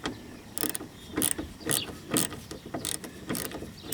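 A ratchet drives a socket holding a bit on a small 1/4-inch drive while removing a 2004 Mustang rear bumper cover, giving repeated close, crisp ratcheting bursts in an uneven rhythm.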